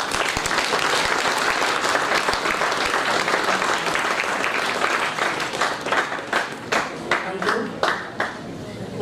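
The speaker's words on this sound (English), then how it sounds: "I request everyone to acknowledge Dr. T. Pavan Kumar's valuable keynote lecture with another warm round of applause." Warm applause from a conference audience after a keynote lecture at a valedictory ceremony, dense sustained clapping throughout that thins near the end into scattered individual claps.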